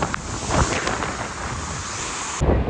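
A Kolhapur waterfall rushes in a loud, dense, continuous roar, with buffeting wind on the microphone throughout and no voices.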